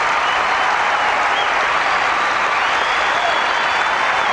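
A packed arena crowd gives figure skater Scott Hamilton a standing ovation after his technical program at the 1990 U.S. Open Professionals, steady loud applause filling the whole stretch with a commentator's voice underneath.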